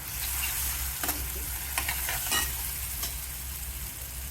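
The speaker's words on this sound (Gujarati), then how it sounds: "બટેટા ઓલરેડી બોઇલ થઈ ગયેલા છે તો આપણે નાખી દઈએ હવે ઝડપથી હળદર" Boiled potato pieces and turmeric sizzle in a hot pan, a steady close frying hiss broken by several brief stirring scrapes and clanks, with no voices.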